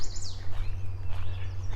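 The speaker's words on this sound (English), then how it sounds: "how alive this place is with birds." Birds sing outdoors in a lively natural setting, several high chirps and calls close together over a steady low rumble, moderately loud throughout.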